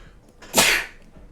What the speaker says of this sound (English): the sneeze is free.